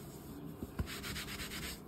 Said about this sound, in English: Give that a little rub. My hand, just to flatten it down a bit.